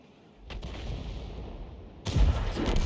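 Heavy tank cannon fire in a tank battle video game: a low booming shot near the start, a rumbling stretch, then a second louder, sharper blast around two seconds in, with no talking.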